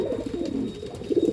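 Top-quality pigeons in a breeding setup coo in repeated soft, throaty rolling calls, close by and fairly quiet, with several overlapping birds and no talk.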